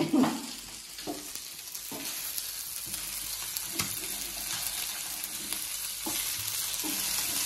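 Fish fries in a pan with a constant crackling sizzle, close up and moderately quiet, while a utensil stirs and scrapes at intervals of about a second. No one speaks.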